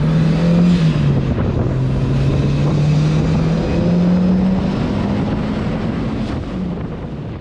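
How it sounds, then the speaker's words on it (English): Steady engine drone from a turbocharged Mazda Miata with a rising and falling whooshing intake roar, loud and continuous, mixed with wind rush as the car drives. "So the car to drive, it is all intake noises."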